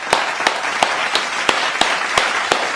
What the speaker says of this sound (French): dès que le prof commence à parler, toute la classe applaudit.